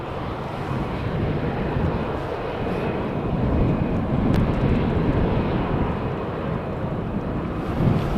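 A plane arriving on runway 18R at Amsterdam Schiphol Airport roars as a loud, broad, steady engine rumble, mixed with gusty wind buffeting the microphone.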